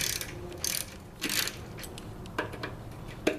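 Ratchet wrench loosening the slider cap fasteners on a Harley Softail Deluxe front fork, a few short bursts of rapid clicking close by, with no talk.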